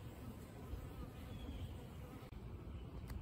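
Faint, steady buzzing hum of honey bees around a hive, a continuous low drone with no talk over it.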